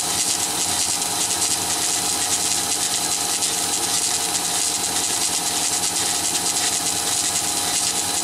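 Sunnen ML-4000-D horizontal honing machine, power-stroked, running in manual mode with its reciprocating stroke and spindle working, giving a steady continuous mechanical hum and whir at even level throughout with no talk.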